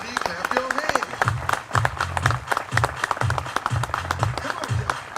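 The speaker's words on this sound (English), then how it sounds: "Everybody clap your hands" A crowd at a Memorial Day ceremony claps along after an American Legion award presentation, with rhythmic clapping over a pulsing musical beat and voices calling out beneath it.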